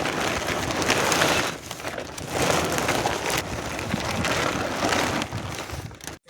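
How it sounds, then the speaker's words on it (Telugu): Steady rain drums on a tent outdoors, a dense continuous patter with gusty wind noise that swells and dips throughout, then cuts out abruptly at the end. "ఇప్పుడు వర్షం పడుతుంది కదా"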